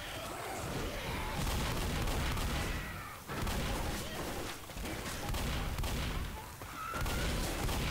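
Sustained gunfire during a zombie horde attack in Left 4 Dead, a dense, continuous rattle of shots with brief dips, mid-distance and loud, no talk over it.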